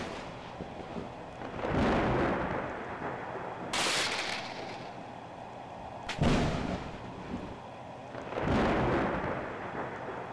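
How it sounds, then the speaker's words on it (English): Thunderstorm in the Roblox game Natural Disaster Simulator: four heavy thunder cracks and rolling rumbles arrive a couple of seconds apart, each booming loudly and then fading, with no talking. "Thunderstorm!"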